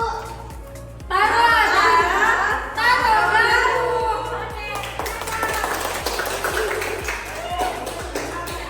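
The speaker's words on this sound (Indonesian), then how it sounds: "Oke, tepuk tangan." A class of students claps hands together in a classroom, a loud burst of many overlapping claps starting suddenly and tapering off, with children's voices and chatter mixed in.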